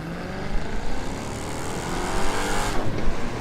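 A Dodge Charger's engine roars steadily in the racing video game The Crew 2, loud and continuous with rising revs and a brief swell near the end, no talk over it.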